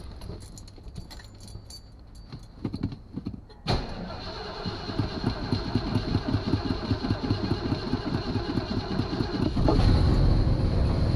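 A 1977 Mercury station wagon engine cranks briefly, catches and fires up, then settles into a loud, rhythmic, slightly lumpy idle that grows steadier and a bit louder toward the end, with no talking.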